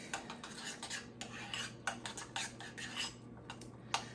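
Faint, close clinks and scrapes of a utensil mixing food in a bowl, quick irregular taps over a low steady hum.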